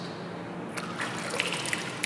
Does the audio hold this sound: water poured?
yes